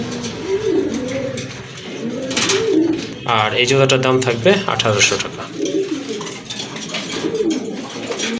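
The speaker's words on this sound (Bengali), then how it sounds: "এখানে কিন্তু দুইটা কবুতর আছে। একটা হচ্ছে রাজগোল্লার মাদি কবুতর" Rajgolla pigeons, a breeding pair, coo in soft, low, rolling phrases that repeat through the stretch, nearby and partly buried under someone talking steadily over them.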